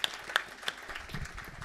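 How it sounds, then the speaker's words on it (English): An audience at an International Women's Day STEMM lunch event clapping, a short, fairly faint burst of applause with a few distinct sharp claps standing out. "I'd like you all to join together again and give them another round of applause"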